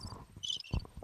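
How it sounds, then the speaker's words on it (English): Crickets chirp as a comedic sound effect, with short faint trills over a low rumble of background noise. "Crickets."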